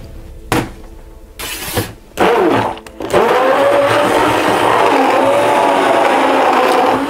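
A stick blender whirs in short bursts, then runs steadily while mixing soap batter to trace. The motor hum is loud and close and carries a rising whine.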